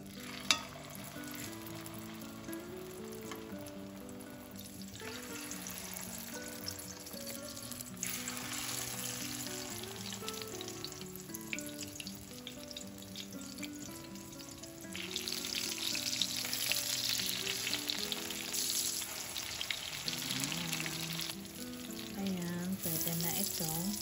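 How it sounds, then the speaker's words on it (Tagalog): Eggplant omelette (tortang talong) frying in a pan, its soft hiss swelling in stretches and strongest toward the end, set beneath steady background music. "ready na natin ito lutuin yung ating tortang talong"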